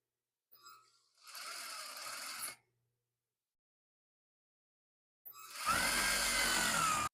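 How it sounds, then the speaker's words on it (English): A sewing machine stitches a sleeve seam on a duster coat in two close, steady whirring bursts, each about two seconds long, with a quiet pause between and no talk. "And now we will sew along this line."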